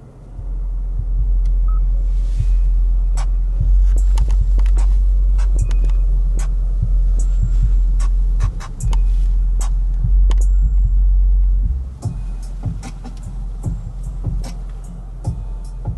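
A bass-heavy song plays through the Bose premium sound system of a 2023 Hyundai Tucson Limited, with deep, booming low end throbbing steadily and percussive hits cutting through, loud and continuous with a brief dip near the end.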